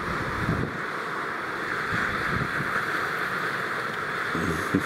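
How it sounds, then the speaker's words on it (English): Strong wind buffets the microphone at a coastal fossil-hunting site, a constant loud roaring rush with gusty swells and faint surf in the background, no voices. "the wind's terrible today"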